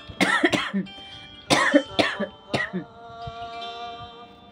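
A person coughs in several harsh bursts, close by, with pauses between the fits and a faint tonal hum trailing afterward.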